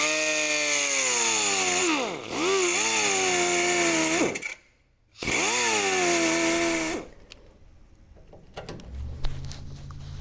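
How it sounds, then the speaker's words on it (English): Angle grinder cutting a slot into a stuck self-tapping screw on a 2003 18 ft tilt bed trailer, a loud sustained whine that dips and bogs under load, cuts out briefly, restarts, then stops and leaves quieter clatter. "Just going to grind a slot in this"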